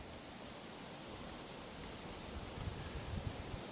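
Steady, broadband wind roars outdoors at a carp lake, buffeting with low rumbles that grow stronger toward the end, with no voices.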